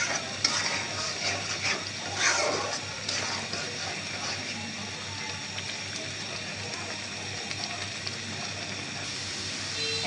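Chili and tomato mixture frying in a pan, a steady crackling sizzle with sputtering splatters and occasional stirring scrapes, loud and close throughout.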